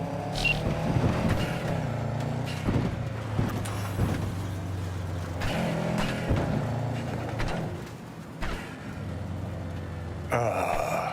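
Car driving in Cyberpunk 2077, with a steady engine hum, shifting tonal motor whine, and occasional knocks and thuds over a continuous rolling drone, fairly close.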